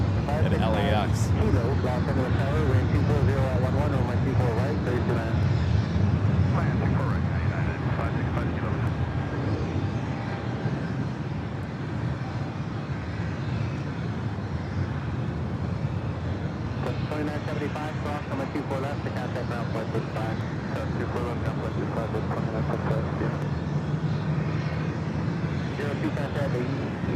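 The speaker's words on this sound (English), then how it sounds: "This is the 737-800 Delta Airlines flight 2096." Delta Air Lines Boeing 737-800 departing LAX, its steady jet engine roar filling the whole stretch under continuous talk.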